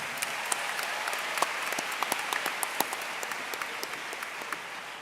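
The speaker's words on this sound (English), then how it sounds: "Round of applause for Amy." Audience applause at the Miami Herald/el Nuevo Herald Silver Knight Awards ceremony, a steady wash of many hands clapping with sharper individual claps popping out, moderately distant in a large hall.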